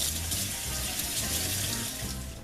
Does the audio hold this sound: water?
yes